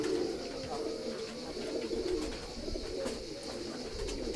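Pigeons coo in a loft in Pieria, Greece, with a continuous series of low, soft rolling coos from several birds overlapping close by.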